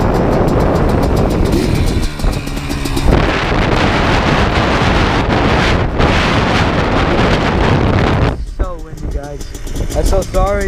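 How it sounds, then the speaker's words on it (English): Strong desert wind buffets the microphone in a continuous loud roar while riding a Blaster 200 ATV, easing briefly near the end as a voice speaks over the gusts. "it's so windy"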